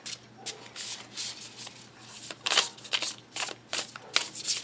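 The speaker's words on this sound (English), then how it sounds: "Okay, I want to just get a good shuffle in so you could kind of see." A tarot card deck being shuffled by hand, with repeated soft riffling and rubbing bursts close by at a quiet level, and no voices.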